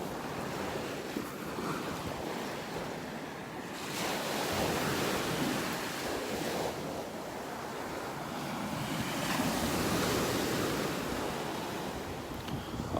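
Rough surf rolls onto a beach in North Naples, Florida, a steady broad roar of breaking waves swelling and easing in long surges, mixed with gusty wind buffeting the microphone.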